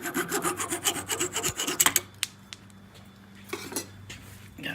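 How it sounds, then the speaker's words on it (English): A handsaw cuts through a wooden dowel rod with quick, rhythmic rasping strokes up close, ending after about two seconds in a few faint knocks and scrapes. "I got a dowel rod over here ready to cut."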